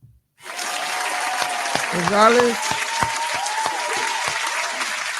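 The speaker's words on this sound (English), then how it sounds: "I'm gonna clap for that." Applause from a small group of people breaks out after a brief silence and carries on steadily at close range, with a voice speaking briefly over it.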